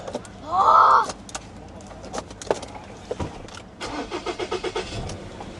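A Lexus LX570 SUV, modified to look like an LX600, starts up outdoors: a key jingle and a short loud cranking burst, then clicks and a rhythmic engine chug, with crows cawing and brief voices nearby.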